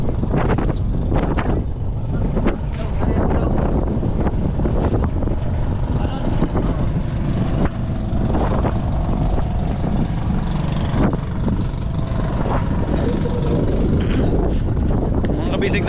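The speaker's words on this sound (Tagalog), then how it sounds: "Grabe, lakas ang hangin dito sa Cebu." Strong wind buffets the microphone on a boat near Cebu, a loud continuous roaring rush with gusty swells and a low engine-like drone beneath, while voices talk faintly now and then.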